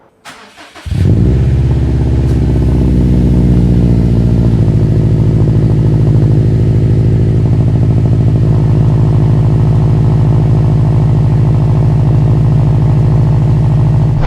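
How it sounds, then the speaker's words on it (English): A 2002 GMC Envoy engine cold-starts: a brief starter crank, then the engine catches and settles into a loud, steady, close idle that continues to the end. No one speaks. "You can always count on a nice cold start to put a smile on your face."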